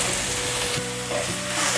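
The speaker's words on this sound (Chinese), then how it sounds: "把金针菇炒软" Enoki mushrooms stir-fried with carrot and ginger in a hot pan give a steady close sizzle and crackle, with soft scraping as they are tossed, continuous for under two seconds.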